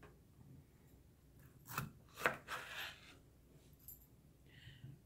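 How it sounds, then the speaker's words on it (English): A knife cuts a bell pepper into one-inch cubes on a board for shish kebab, giving a few quiet, sharp chops in quick succession midway through, with soft background hiss around them. "then I'm going to cut it in 1-inch cubes for our shish kebab"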